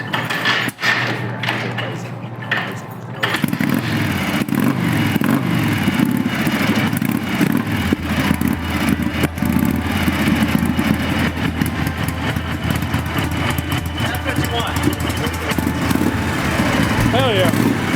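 A 1963 Harley-Davidson Panshovel motorcycle engine catches on its first start and settles into a loud, steady, rumbling idle close by, with people talking over it throughout.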